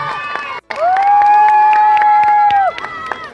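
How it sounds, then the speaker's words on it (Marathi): An audience at a stage event applauds and cheers loudly for a woman being honoured, with a dense crowd roar, scattered claps and a long, steady whistle-like tone held for about two seconds. "एकदा जोरदार टाळ्या झाल्या पाहिजे दक्षिणा राठोड मॅडम साठी."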